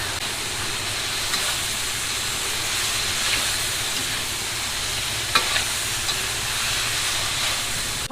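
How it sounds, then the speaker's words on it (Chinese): Mushrooms stir-fried in a wok give a steady hiss and sizzle, with occasional faint scrapes and clinks of the spatula, no voices. "然后我们再翻炒一下，炒出香味儿"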